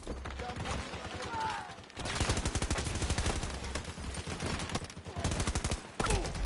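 Rapid video game gunfire, dense automatic bursts that rattle on for several seconds with short pauses, loud and close, with faint voices underneath.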